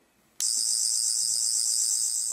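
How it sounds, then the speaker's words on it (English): A Doctor Who River Song sonic screwdriver toy switches on after a brief silence, giving a steady, loud electronic buzzing tone that holds unbroken. "the emitter lights up a steady blue while a basic low buzzing sound effect is heard"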